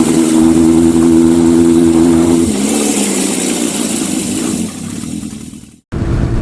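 Motorcycle engine at around 80 km/h, a loud steady drone that eases off and fades before a brief dropout, then returns, with wind noise over the mic.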